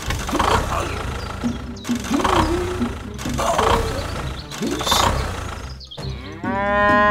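Cows moo repeatedly near a rough rural road, four long, loud, drawn-out lows in a steady rhythm, with an engine rumbling underneath and a higher tonal sound entering at the end.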